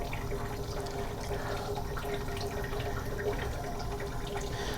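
Steady rushing river water flows continuously through a portable water filter with a constant hiss and a faint tonal hum underneath, fairly close and even throughout.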